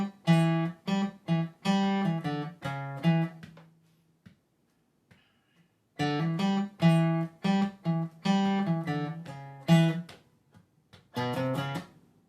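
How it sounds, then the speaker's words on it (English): A clean guitar plays a riff on the 4th string as a quick run of plucked single notes in two phrases with a short pause between them. It sounds close and clear, with no talking. "I'm going to show you how to play the riff."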